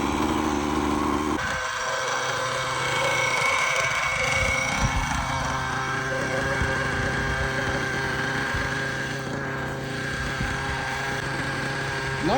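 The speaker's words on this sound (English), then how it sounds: "Now the engine is started." A nitro glow engine on a radio-controlled helicopter idles just after starting, a steady buzzing drone that holds at an even level throughout, loud and close.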